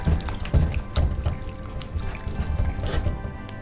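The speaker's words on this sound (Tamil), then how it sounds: "பச்சை தண்ணி ஊற்றி." Fresh water poured over rasagulla held in a cloth, a steady trickling, splashing stream with small drips, close and fairly quiet, no talk over it.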